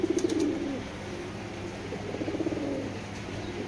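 A silver Beji pair of Giribaz pigeons cooing nearby, a burst of rolling coos at the start and another midway, soft and low against a quiet room, with no talking.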